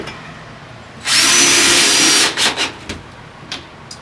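Power drill driving 2 1/4 inch pocket screws into wood while building a chicken coop, a loud continuous whir for about a second, then several short trigger bursts and a few brief pulses.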